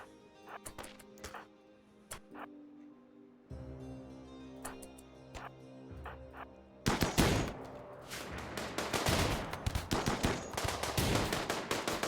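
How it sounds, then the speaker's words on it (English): Revolver and other gunfire in the colony-sim game RimWorld, a run of sharp shots early on, then dense, loud rapid fire building through the second half with no talking. "There's a headshot with the revolver."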